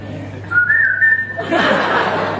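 A single rising whistle, clear and sustained for about a second, followed by a burst of laughter.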